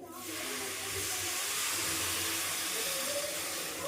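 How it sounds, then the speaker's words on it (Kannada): Hot water poured into a pan of frying upma, a sudden loud hiss and steamy sizzle that rises within a moment and stays broad and steady to the end. "ನಾನು ಬಿಸಿನೀರು ಇಟ್ಕೊಂಡಿದ್ದೆ ಸ್ವಲ್ಪ ಕಾಯೋಕ್ಕೆ, ಅದನ್ನು ಈಗ ಹಾಕೋತಾ ಇದ್ದೀನಿ."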